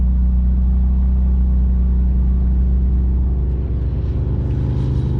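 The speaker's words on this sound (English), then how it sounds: "And listen to that exhaust note." A BMW Z3 2.3's low, throaty exhaust burbles steadily and loudly up close, a continuous deep rumble with a slight lift near the end.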